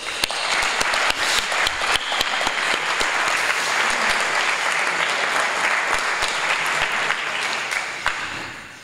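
Loud, sustained applause from a concert audience at a pasodoble concert in Segorbe, with dense clapping that swells slightly and then tapers off near the end.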